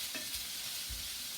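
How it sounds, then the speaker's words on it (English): Onions stirred in a hot pan for a squash casserole, a soft sizzle under a couple of faint scrapes from the spoon, brief and quiet. "let me stir my onions."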